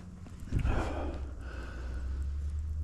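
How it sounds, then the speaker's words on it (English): A carp just caught while crappie fishing in a snowstorm makes odd noises as it is handled near the water, a brief wheezing gasp or snort followed by softer breathy hissing over a low rumbling background. "You ever hear a carp do that?"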